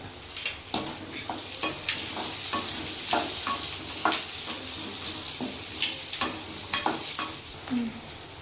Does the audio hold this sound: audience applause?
no